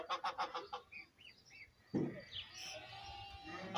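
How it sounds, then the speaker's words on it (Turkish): Ducklings calling near a rural family house, a series of short bright peeps and chirps in quick bursts at first, then softer, with a rougher low honk-like burst joining midway over steady background noise. "Ördek çocuğu."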